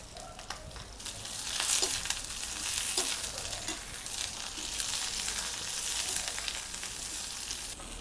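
Garlic and ginger fry in a hot pan for a spicy masala, a dense, steady crackling sizzle with light stirring, close and continuous throughout.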